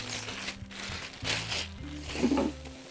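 Crinkly plastic toilet paper packaging rustles and crackles in bursts, handled close by, with a low hum running underneath.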